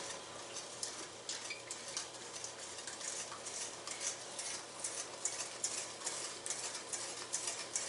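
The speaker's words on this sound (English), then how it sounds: "Whisk this." Ten egg whites are whisked with sugar in a bowl, giving a soft, continuous rapid scraping and ticking that stays faint and even throughout, with no voices.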